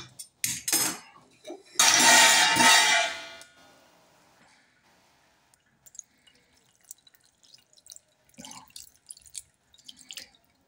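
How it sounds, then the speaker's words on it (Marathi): Water from curdled chhena pours and drains through a cotton cloth in a home kitchen, a loud rushing splash for about two seconds, followed by sparse drips and light clinks of utensils. "आता आपण हे ह्याच्यावर ओतणार आहे म्हणजे पाणी पाणी निघून जाईल आणि छेना राहील"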